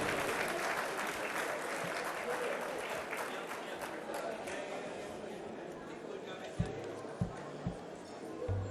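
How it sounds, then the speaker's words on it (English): Guests at a gala dinner give a loud, dense round of applause that slowly thins out, with a few sharp thumps near the end as it fades. "give yourselves a big round of applause for coming out tonight"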